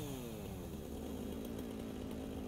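A chainsaw runs in the factory-building game Satisfactory with a steady, buzzing engine drone that holds at constant strength, faint and far off, with no one speaking.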